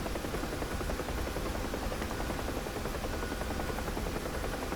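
A Huey helicopter in the DCS flight simulator drones with a steady, dense rotor and turbine roar, loud and unbroken throughout with no talking.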